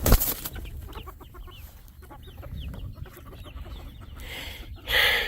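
Silkie chickens cluck outdoors in a scattered run of soft, close calls, with a louder flutter or squawk near the end and no one talking.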